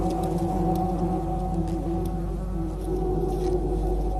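Honeybees that have just fought off a hornet at their hive buzz in a steady, droning swarm, close and continuous, with faint overlapping wingbeat tones.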